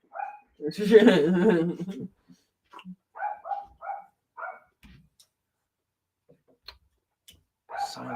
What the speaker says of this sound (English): You guys like that dog you're hearing? It's fucking awesome, isn't it?